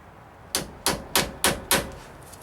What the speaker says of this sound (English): with a nice sharp punch, we're going to mark the pinion